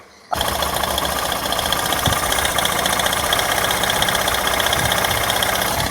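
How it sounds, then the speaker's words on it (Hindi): A Hero Glamour or Passion Pro BS6 motorcycle engine idles with a rapid metallic timing-chain rattle over the mechanical hum, starting abruptly and running loud, close and steady with no talk. "नॉर्मल इंजन के अंदर टाइमिंग चेन का साउंड है, तो आप टाइमिंग चेन का साउंड सुना रहा हूँ।"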